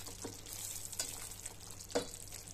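Cashews being stirred into a kaju curry on a low gas flame, a soft steady sizzle of frying with a few scraping stir strokes, close and alone without talk.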